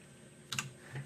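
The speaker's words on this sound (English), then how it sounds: "let's hit Control Alt Shift and N on the keyboard to create a new layer" Two quick computer keyboard key presses land close together, a short clicky burst of a multi-key Photoshop shortcut, fairly faint against a quiet room.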